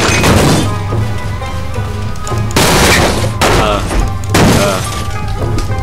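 A car in a video game blows up with loud booming blasts, followed by two more big explosive bursts over a rumbling, crackling background.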